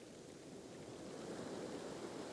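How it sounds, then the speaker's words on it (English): Ocean waves wash around posts in a faint, steady surf wash that swells slightly toward the end, heard from nearby without any voices. "Wait for a wave, let's have a look."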